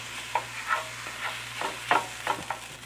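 Rice heating in a pan with soy sauce being stirred in for Japanese-style chicken fried rice: a steady sizzle under repeated scraping strokes of a utensil, close and clear, without speech.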